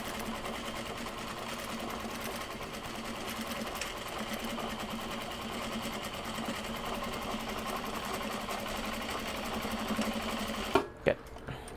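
A sewing machine stitches back and forth on Japanese fabric for a gyoza bag, a loud continuous mechanical whir that runs steadily for over ten seconds before stopping abruptly with a couple of clunks.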